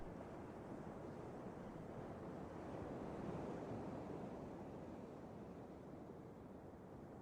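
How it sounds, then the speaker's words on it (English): Strong wind blows steadily outdoors by the sea, a dense, continuous roar of gusting air buffeting the microphone, mixed with a low wash that may be surf, with no voices throughout. "it's pretty windy right now"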